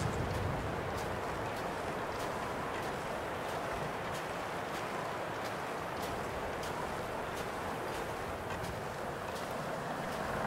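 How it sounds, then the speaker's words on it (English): Steady wind blows continuously in the video game The Long Dark, a broad rushing hiss with faint intermittent ticks, constant in level throughout with no voices. "Yeah, it is windy. It is definitely windy."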